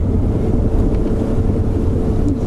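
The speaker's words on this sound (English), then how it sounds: "you realize exactly how windy the day actually is. And I'm sure you can hear it." Strong wind buffets the microphone on an open airstrip in the African bush, a loud, continuous low rumble with no other clear sounds.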